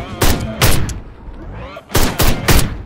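Gunshots in the video game Ride to Hell: Retribution: five loud, close blasts, two quick ones, a pause, then three more in steady succession, each with a short echoing tail.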